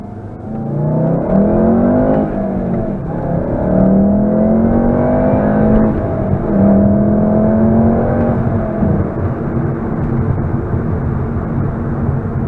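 Volkswagen Golf R accelerating with its synthetic engine sound played through a windshield speaker: a steady droning hum rising in pitch through several gear pulls, heard from inside the cabin with a constant road roar beneath.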